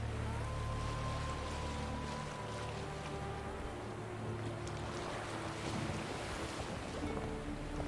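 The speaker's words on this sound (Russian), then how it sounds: "брызги, ветер." Sea spray and wind while sailing in the video game The Witcher 3: Wild Hunt, a steady loud rush of wind and splashing waves over a low engine-like drone, continuous throughout with no speech.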